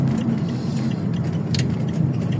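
A car driving along a country road in the Vosges with its windows open, giving a steady, close rumble of engine and road noise with wind buffeting throughout and no talk.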